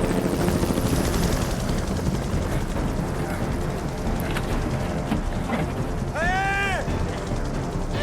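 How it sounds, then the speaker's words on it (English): A rescue helicopter flies low and slow over the Colorado Rockies, its rotor making a steady loud thrum throughout, with a short high whistling sound near the end. "The helicopter's come back."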